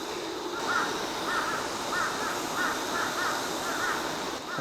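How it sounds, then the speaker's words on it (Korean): A crow caws repeatedly near a rainy valley campsite in summer, a series of evenly spaced calls at moderate distance over a constant wash of rain or stream noise. "까마귀가 왜 이렇게 울어?"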